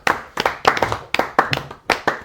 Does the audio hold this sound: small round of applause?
yes